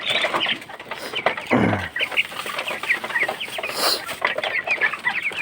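A flock of hungry chickens clucks and chatters steadily while eating feed, loud and close, with overlapping calls and one longer squawk near the start.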